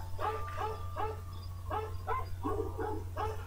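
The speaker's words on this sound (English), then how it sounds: "there are the Jingle Bell barking dogs. I can hear them." Small dogs barking in a rhythmic, tune-like pattern of Jingle Bells, with a steady low hum underneath; the barks sound recorded rather than live.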